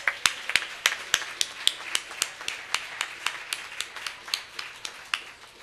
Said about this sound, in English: Please join me in a round of applause for our judges.